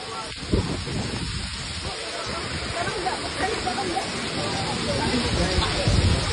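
Heavy rain pours steadily outdoors at a public gathering, a dense continuous hiss with occasional louder spatters and rumble, no clear speech over it.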